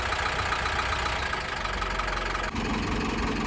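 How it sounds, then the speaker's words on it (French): A diesel engine with a fault runs steadily at idle, a constant low mechanical drone with a slight knock and heavy vibration, close by and with no voices. "je pense il vibre beaucoup le moteur"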